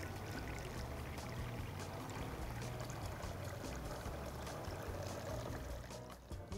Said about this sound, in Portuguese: Colocaria a mesma quantidade em água.